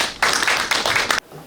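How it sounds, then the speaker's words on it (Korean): Crowd of audience members bursting into a round of applause to welcome a professor onto the stage for a lecture, dense clapping lasting about a second before cutting off abruptly into quiet. "큰 박수로 모시겠습니다."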